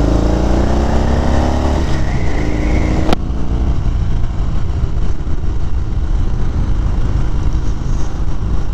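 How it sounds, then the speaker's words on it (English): A motorcycle accelerates on a riverside road at sunset, its exhaust pipes rising in pitch through the gears before dropping into a steady loud roar mixed with heavy wind rush, close and continuous. "maybe you got a good sound of the pipes"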